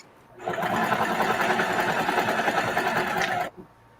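A sewing machine stitches a reversible bucket hat in a single steady burst of about three seconds, close and loud, stopping abruptly.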